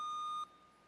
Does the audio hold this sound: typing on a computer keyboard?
no